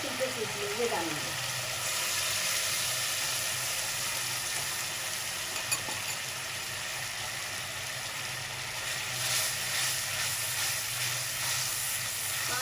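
Masala paste frying in a pan for achari stuffed tinday, with a steady, soft sizzle and hiss that runs continuously, fairly quiet and unbroken.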